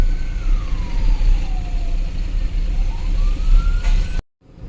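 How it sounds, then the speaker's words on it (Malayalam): An ambulance siren wails with rising and falling sweeps through dense, slow-moving road traffic, loud and close over a heavy engine rumble before cutting off abruptly near the end. "ആംബുലൻസ് ഒക്കെ വരുന്ന കണ്ടോ"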